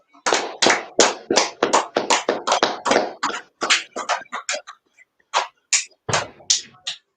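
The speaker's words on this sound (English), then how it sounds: "we're gonna end the class. Let's clap it up." A class claps together at the end of a lesson, giving a quick run of sharp, close hand claps that is steady at first, thins out and pauses briefly, then returns for a few final claps.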